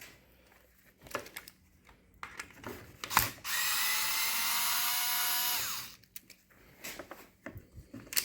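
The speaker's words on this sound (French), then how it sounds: "Là, on n'a plus qu'à desserrer la vis Torx qui est là." On a Skoda Kodiaq mirror, a Torx screw is backed out with a powered driver that whirs in one steady burst of about two and a half seconds, close up, with light clicks and handling noises before and after.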